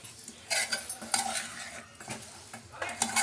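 Chicken being stirred in a pan as it cooks in its own juices, with soft sizzling and repeated scraping strokes of a utensil against the pan, close and fairly quiet, no talking.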